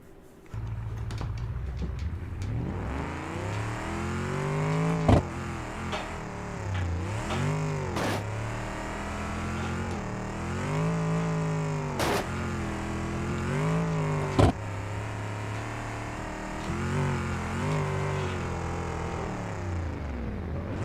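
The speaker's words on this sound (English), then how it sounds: "I'm gonna do one loop" A fast car runs a loop on a dirt trail, its engine revving hard and repeatedly through rising and falling pitch sweeps, with a few sharp bangs between surges, loud and continuous without speech.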